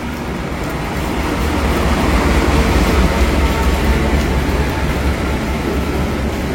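The Fajar Utama Jogja passenger train rumbles steadily close by as it arrives at a station platform, a heavy continuous roar with low clanking undertones as it rolls in.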